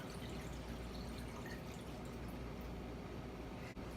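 Steady splashing of water being poured into a saucepan over chicken breast, a continuous close liquid rush that holds evenly for several seconds before a brief dip at the end.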